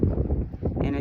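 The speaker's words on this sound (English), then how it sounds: "it's really windy" Strong outdoor wind buffets the microphone in heavy, uneven low rumbling gusts during a hot, windy day, with a person talking underneath.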